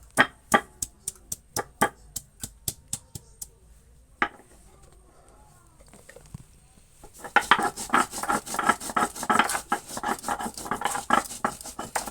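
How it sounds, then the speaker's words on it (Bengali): Cumin, ginger, a green chili and onion are ground together into a paste, with sharp rhythmic scraping strokes that pause, then resume faster and denser. "অল্প জিরা, অল্প আদা, একটা কাঁচা লঙ্কা আর অল্প পেঁয়াজ আমি বেটে নিব একসাথে"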